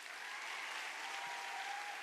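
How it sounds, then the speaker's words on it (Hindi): A seated audience at a network marketing training session applauds steadily, dense even clapping holding at a consistent level throughout without pauses. "और ताली बजाओ बढ़िया से।"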